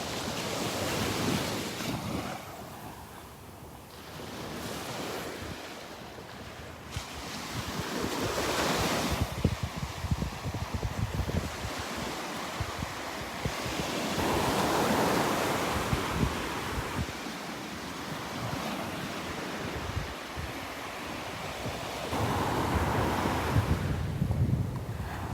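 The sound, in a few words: wind on a beach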